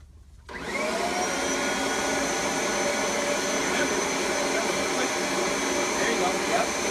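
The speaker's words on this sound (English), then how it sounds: "go ahead and vacuum that same exact chair off" A vacuum cleaner switches on after a brief quiet moment and runs steadily and loudly while vacuuming off a dirty chair, its broad whining roar holding constant to the end.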